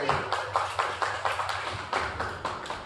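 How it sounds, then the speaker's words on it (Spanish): Small audience in a church family Bible-study session clapping in a loose, steady rhythm of distinct claps for a few seconds, fairly close and with no talk over it. "Su aplauso para ustedes."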